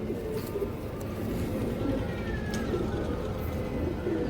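Madrasi pigeons coo repeatedly inside a cage, a steady low murmur of overlapping calls close by over a constant rumbling background.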